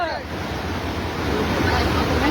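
River floodwater rushing across farmland after a cloudburst, a loud continuous roaring wash that swells slightly toward the end, with wind noise on the microphone.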